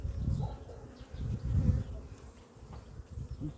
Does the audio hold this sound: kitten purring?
no